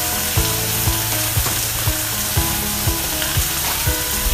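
Rice wine and red wine vinegar hiss loudly on a hot Blackstone griddle in a dense, continuous sizzle, with a regular knock of a utensil against the metal about twice a second.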